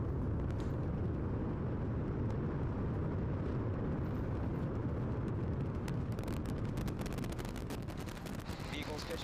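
A SpaceX Starship Super Heavy rocket lifts off from Pad 1 on its eleventh test flight. A loud, steady, crackling roar fills the whole clip and is continuous, with sharp popping bursts toward the end.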